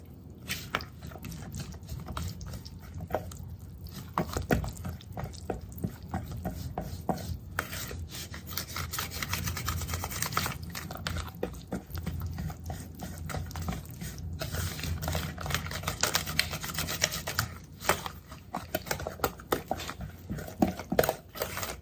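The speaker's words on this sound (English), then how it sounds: "And now I'm mixing in the wet ingredients and the dry ingredients." Wet and dry pancake batter ingredients mixed in a bowl, heard as a steady run of close, gritty stirring, scraping and tapping sounds that continues throughout without speech.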